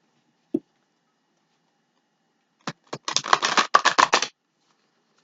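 Tarot cards being shuffled by hand, a single soft tap followed after a pause by a dense, rapid run of crisp riffling clicks lasting about a second and a half, close and clear with no talking.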